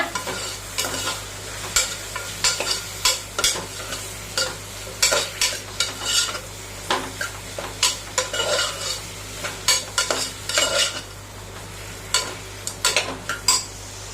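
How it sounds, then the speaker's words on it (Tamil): Brinjal sautéing in oil for ennai kathirikkai kulambu, with repeated close scrapes and clinks of a spoon stirring through a steady low sizzle, strokes coming in quick irregular bursts throughout. "அந்த கத்திரிக்காவை நம்ம இதில் போட்டுக்கலாம் இதில் போட்டு அதையும் நல்லா வதக்கி விடுங்க"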